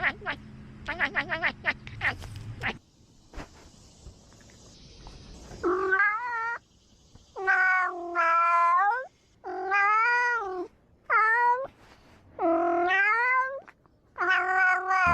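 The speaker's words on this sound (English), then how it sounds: "Why is he meowing like that?" A cat meows repeatedly in long, drawn-out, wailing calls, loud and close, each cry separated by short pauses after a brief burst of clattering noise at the start.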